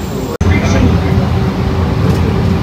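A crowded Mumbai suburban local train heading toward Kopar and Kalwa stations rumbles loudly and steadily from inside the carriage, with a brief dropout at the start and voices faintly mixed into the din.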